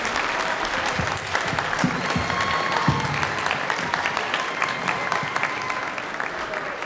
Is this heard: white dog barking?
no